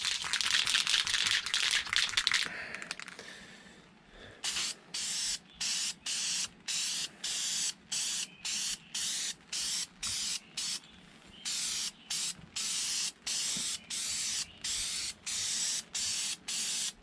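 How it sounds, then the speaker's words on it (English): A spray can of black paint hisses in a long burst, then sprays in a steady series of short, regular bursts with brief pauses between, close and loud. "We'll spray some black paint on there real quick."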